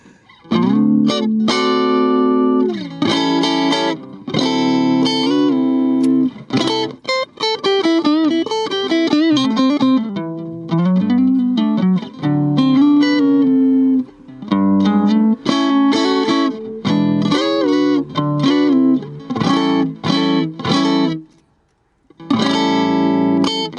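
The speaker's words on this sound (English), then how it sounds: "So let's just play for a second clean. I got no effects on the amp, which is my microcube." A Fender Stratocaster electric guitar strummed in chords through a Roland Microcube amp with no effects, a full sustained tone lasting for most of the stretch before a brief gap and a final chord, loud and close with no talk.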